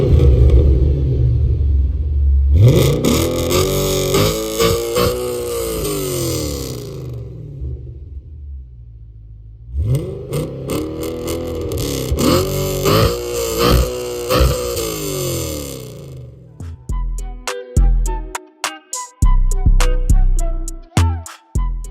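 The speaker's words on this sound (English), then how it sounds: "This V8 is very loud." A 420bhp Audi RS4 B7 Avant V8 roars loudly while driving, two long rising and falling revving runs with a pause between, then sharp crackling and popping bursts as the throttle lifts.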